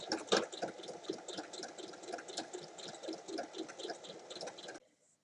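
Domestic sewing machine stitching around the edge of a terry cloth bib, a rapid rattling run of needle strokes with slight speed changes, close and clear, stopping abruptly near the end.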